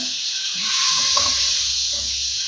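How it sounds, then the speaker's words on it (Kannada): Boiled eggs frying in hot oil in a pan, a continuous dense hiss that holds steady and close for the whole stretch with no talking. "ಚೆಂದ ಎಣ್ಣೆಯಲ್ಲಿ ಮೊಟ್ಟೆನ ಫ್ರೈ ಮಾಡ್ಕೊಳ್ಳೋಣ"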